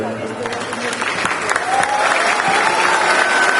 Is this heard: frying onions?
no